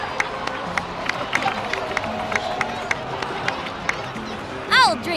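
Crowd applause in Genshin Impact, steady clapping with scattered sharp claps throughout, a brief bright electronic chime near the end.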